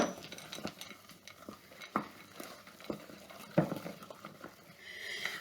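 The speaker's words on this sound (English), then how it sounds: "And then we're just going to stir it up" Thick banana batter stirred in a bowl, with soft wet squelching strokes and occasional utensil taps against the sides, quiet and irregular.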